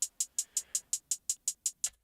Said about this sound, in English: So it was this MIDI right here, just this hi-hat MIDI, this.